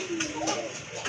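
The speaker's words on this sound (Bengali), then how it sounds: "মাশাআল্লাহ অনেক বড় সাইজের একটা রেসার কবুতর" A large male racer pigeon gives a brief, low, soft coo close by, with people talking around it.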